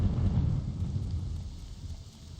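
Thunder and rain in the video game Morrowind, a low continuous rumble with steady rainfall hiss, fairly loud at first and slowly easing off, with no voices.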